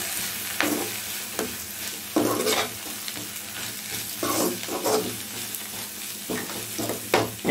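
Drumstick leaves sauté in hot oil under a steady close sizzle, broken by repeated scraping stirs of a spoon against the pan, with no voices.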